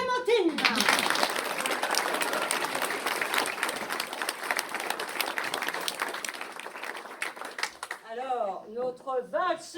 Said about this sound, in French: Applaudissez Clémentine.